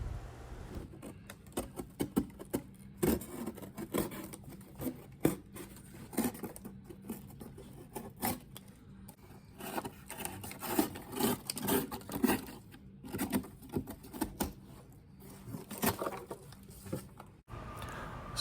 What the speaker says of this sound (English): Next, I cut these little flaps, which are now tassels, off the box.